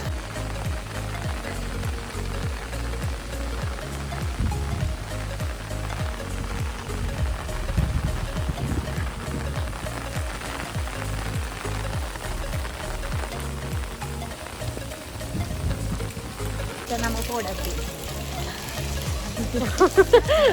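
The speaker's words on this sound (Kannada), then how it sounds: "ಸಖತ್ ಮಳೆ ಇದೆ." Heavy rain pours down steadily throughout at a temple on the way to the Mangalore highway, a dense patter on surfaces with faint voices mixed in underneath.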